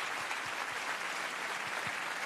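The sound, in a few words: audience applause for Jack Lang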